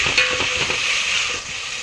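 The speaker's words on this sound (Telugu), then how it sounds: "అల్లం పేస్ట్ కూడా పచ్చి వాసన పోయేంత వరకు ఫ్రై చేసుకున్నాము." Ginger paste frying in a pan while making a Telangana-style goat head curry, a steady soft sizzle with faint stirring scrapes, close and continuous.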